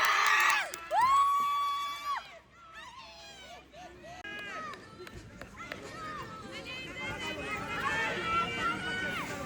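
Supporters at a sporting event shout and cheer loudly: high whoops and cries rise over a busy crowd murmur, swelling again toward the end, with some nearby voices mixed in.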